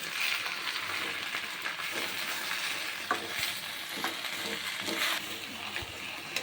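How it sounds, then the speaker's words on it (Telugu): Gongura leaves fry in a pan with a continuous sizzle, broken by repeated scraping and stirring knocks from a utensil, all close and moderately loud. "వేగిపోతుంది గోంగూర, ఇంకొంచెంసేపు వేగిపోతుంది."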